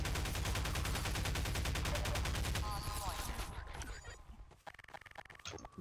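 Rapid automatic assault rifle fire in Half-Life 2, a dense, loud, steady burst of shots for the first few seconds, then fading into scattered impacts and softer game noises.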